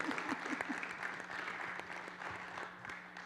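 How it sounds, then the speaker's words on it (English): Scattered applause from a small gathered audience, modest and somewhat distant, with a few individual claps standing out over a low steady hum. "Round of applause."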